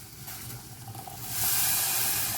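Boiling water is poured over soup vegetables and stock powder in a pot, a soft hissing sizzle that swells louder toward the end, with no talking.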